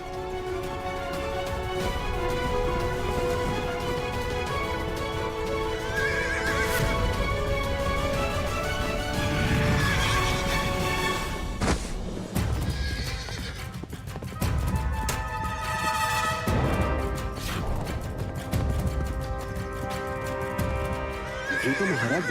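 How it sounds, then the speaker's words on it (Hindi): An unruly horse whinnies loudly and repeatedly while its hooves clip-clop steadily, the neighs rising over a continuous, busy backdrop through the whole stretch. "हमने इतने अश्वों की सवारी की है, किंतु ऐसा बिगड़ैल घोड़ा नहीं देखा।"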